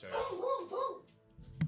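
A pet dog gives a few quick, close barks, then a short pause before a faint sound at the end, with a brief spoken word nearby.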